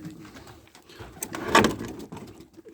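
Pigeons in a loft of about 220 birds, including spotted ones, coo close by with soft overlapping calls and a louder coo in the middle amid light rustling.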